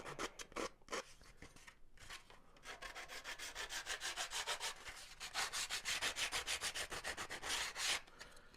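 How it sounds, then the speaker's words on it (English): Hand sanding with 80 grit sandpaper scuffs the outside of a model biplane wheel pant, a Carl Goldberg Ultimate 10-300 build. Close, steady back-and-forth rasping strokes in a quick rhythm, growing louder and denser toward the end, with no talking. "scuff up the outside of that one with 80 grit. So I'll do that real quick."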